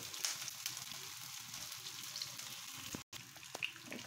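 Pakora batter made with flour fries in hot oil, a faint, even crackling sizzle with scattered pops, steady apart from one brief dropout, no one talking.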